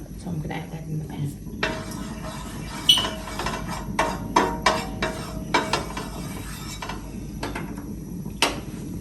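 Chopped garlic, shallot and onion drop into a hot pan with scattered clatters and knocks as they are stirred, the irregular clinks close and fairly loud with no talk.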